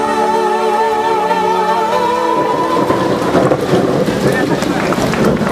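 A rain and thunderstorm sound effect plays at a school stage performance: sustained musical tones give way to loud, dense hissing rain and rolling thunder-like rumble filling the hall.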